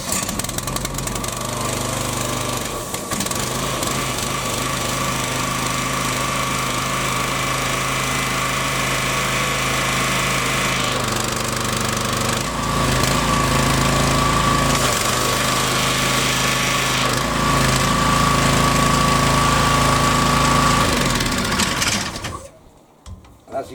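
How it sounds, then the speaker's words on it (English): A Hyundai HYW3000P2 2800 PSI petrol pressure washer engine runs at a loud, steady, buzzing chug from close range, then cuts off just before the end. "whilst pulling the trigger on the lance, we will pull start the engine"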